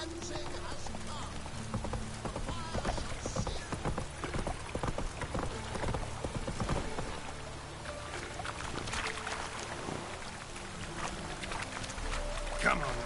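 Hooves of Roach, Geralt's horse in The Witcher 3, clopping in a steady run over a busy game soundscape, while a voice talks over the scene.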